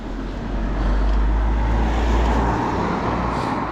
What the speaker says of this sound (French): Je vais me ralentir ici pour faire passer le véhicule.